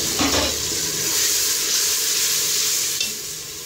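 Spiced chicken and arvi curry sizzling in a pot as it is stirred, with a loud continuous frying hiss, a spoon scraping near the start and again close to the end.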